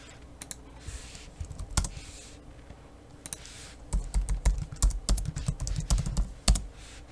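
Someone types on a computer keyboard while renaming objects, with scattered clicks and brief pauses, then a denser run of rapid keystrokes near the end, close and clear.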